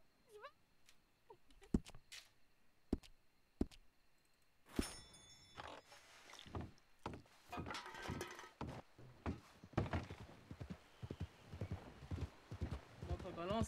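Hooves clip-clop steadily from a horse in a western-themed video game, starting with sparse isolated knocks and building into a dense, continuous trot, with someone talking over parts of it.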